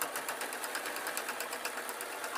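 A sewing machine stitches through quilt backing fabric, a steady, rapid, rhythmic mechanical chatter heard close up and alone.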